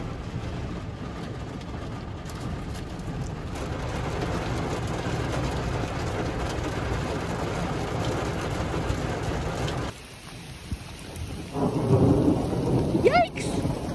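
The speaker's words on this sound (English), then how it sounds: "It's raining hard." Heavy rain pours steadily in the open on a homestead, with rolling thunder rumbling through it; partway through the sound dulls briefly as if cut off, then returns loud with a sharp, close crack near the end.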